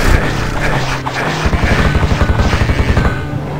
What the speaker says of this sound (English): She's a freaking Gatling gun.